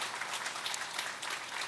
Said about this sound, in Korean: 뜨거운 격려의 박수를 한번 부탁드립니다